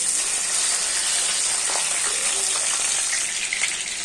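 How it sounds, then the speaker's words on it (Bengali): Bay leaf, cumin seeds, green chillies and dried red chillies frying in hot oil for ghugni, a steady loud bright sizzle that holds evenly throughout with faint stirring underneath, no voice. "তেজপাতা দেবো জিরে ফোড়ন দেবো কাঁচা লঙ্কা শুকনো লঙ্কা"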